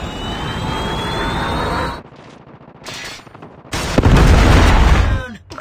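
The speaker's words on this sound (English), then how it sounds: "Friendly Predator missile inbound." A Predator missile strike in Call of Duty Mobile on the Favela map during team deathmatch, with a sustained rushing roar, a brief lull, then a heavy booming blast that rumbles for about a second and a half.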